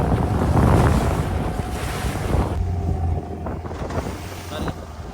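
Ocean waves surge at a fishing shore in Jaffna during a traditional fishermen's ritual, loud and close with heavy wind buffeting the microphone. The roar eases partway through into a softer wash of water.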